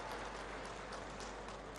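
Crowd applause welcomes Dr. Raman Singh at a public housing-rights event in Nagpura, Durg, heard as a faint, steady, distant wash of clapping with no break.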